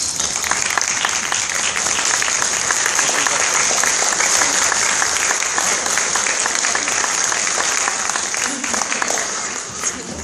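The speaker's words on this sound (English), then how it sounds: "let's give them a round of applause" Audience at a 2015 RPN graduation ceremony stands and applauds, a dense, loud wash of clapping sustained for about ten seconds and tapering slightly at the end.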